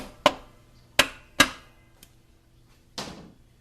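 Several sharp metallic taps, the back of a hammer striking a part into a 4L60E transmission during a rebuild: three close together, a faint one, then a final softer knock, in a quiet room.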